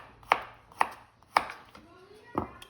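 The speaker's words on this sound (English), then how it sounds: "I'll cut some of these carrots on the bias as well." A knife chops carrots on the bias against a cutting board, four distinct crisp thuds at an uneven pace, close and clear with no talking.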